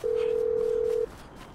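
A phone rings in GTA V: a steady, moderately loud electronic tone holds for about a second and then stops, leaving quieter game background.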